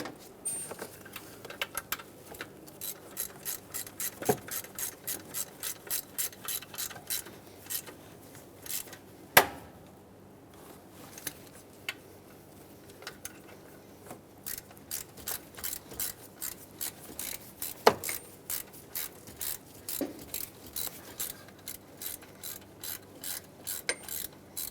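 A ratchet tightens the bottom bolts on a 2008-2010 Ford F250 Super Duty 5.4L V8 engine, giving quiet, steady runs of quick metallic clicks broken by short pauses and a few louder knocks.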